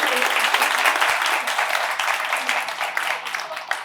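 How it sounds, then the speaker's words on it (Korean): Lecture audience claps together in sustained, dense applause at a motivational talk, steady and fairly loud throughout, with no speech over it. "박수 한번 해주세요."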